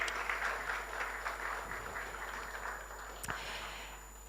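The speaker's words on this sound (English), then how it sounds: "give him a round of applause as he walks into the room and takes his seat" A crowd applauds steadily, the clapping blending into a soft, somewhat distant wash that slowly fades.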